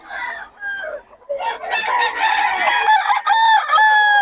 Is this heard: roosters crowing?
yes